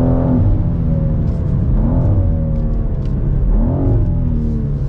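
A 2023 BMW M2 with a six-speed manual and S58 engine revs hard on a track, rising in loud, close pulls with short dips at each gearshift and a steady rumble underneath.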